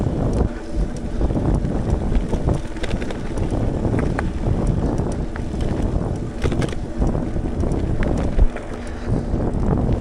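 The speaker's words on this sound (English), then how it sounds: "I am running into the wind" Wind roars steadily into a microphone while cycling into a headwind on a road ride from Custer to Scottsville, Michigan, near Lake Michigan; a loud, continuous buffeting rumble fills the whole stretch with no voices.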